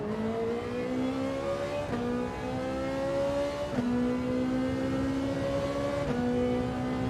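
A Nissan Silvia engine in Gran Turismo 7 revs steadily and climbs through several short, quick upshifts, each marked by a brief dip in pitch, loud and continuous with no talking.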